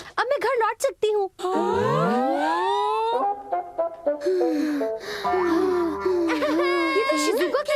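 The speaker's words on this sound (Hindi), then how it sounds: "ये तो शिज़ुका की रोने की आवाज है।" Cartoon girl crying and wailing in an animated Doraemon film, with whimpering sobs and rising, strained wails in bursts, mixed with other animated voices and effects.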